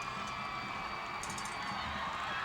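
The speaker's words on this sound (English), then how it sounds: "I took the headphones off for a minute to hear the natural sound, and this crowd's going crazy" A high school football crowd in the stands roars continuously, a dense wall of cheering and shouting that stays loud and unbroken throughout.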